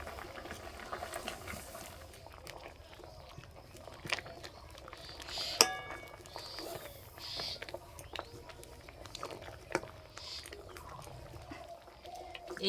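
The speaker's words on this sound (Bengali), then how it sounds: "এবার হাতায় করে এইভাবে ঘুঁটে দেব।" A ladle mashes boiled mung dal in a pot, making soft, irregular squelches, light taps and wet clicks with a faint bubbling texture, fairly quiet and close.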